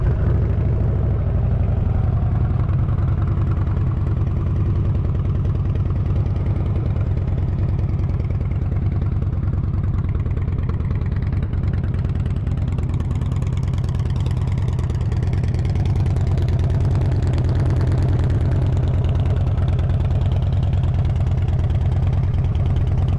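A Harley-Davidson Dyna Street Bob Limited FXDBP motorcycle running at steady idle, its low, loud engine rumble continuous and close for over twenty seconds, with no talking.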